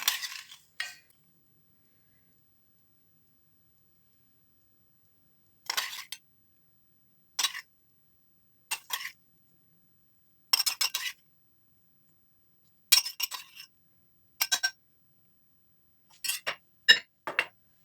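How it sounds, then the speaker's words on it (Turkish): A utensil clinks against a bowl while walnuts are stirred into carrot tarator, a yogurt-based dish; short bursts of scraping and clinking come in irregular clusters with silent gaps between them, close and moderately loud, and nobody speaks. "Tekrardan şöyle cevizlerimizle birlikte şöyle bir karıştıralım ve hemen havuç tarotorumuzun üzerine dökelim"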